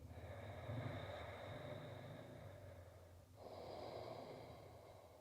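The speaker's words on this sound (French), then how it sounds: "invite la respiration Ujjayi, la respiration victorieuse ou océanique dans ta pratique, en inspirant et expirant par le nez" Ujjayi breath, the ocean-like yoga breath drawn in and out through the nose against a slight throat constriction, heard as a close, steady airy rush with a long inhale phase, a brief pause, then a continuing exhale, alone without talk.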